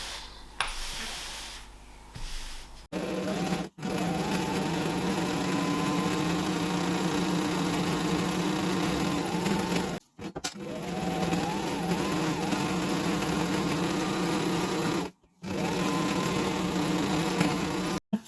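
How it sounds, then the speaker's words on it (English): A sewing machine top stitches a fabric zip liner made from vintage Laura Ashley floral fabric, whirring in three long steady runs separated by brief pauses, close and moderately loud. "What's needed now is to press this down and top stitch."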